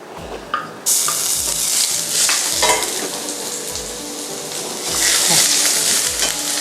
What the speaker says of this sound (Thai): ตั้งน้ำมัน ในกระทะให้ร้อนก่อนนะคะ แล้วเราก็เอากระเทียมลงไปเจียวค่ะ